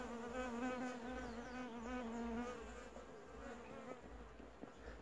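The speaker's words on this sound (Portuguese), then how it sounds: "as abelhas não deixam, não dá sossego os bichinhos" Bees buzzing steadily around flowering plants in a rural garden, a close, continuous drone with shifting pitch as individual insects fly near and away.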